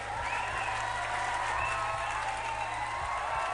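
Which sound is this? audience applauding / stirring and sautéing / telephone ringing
audience applauding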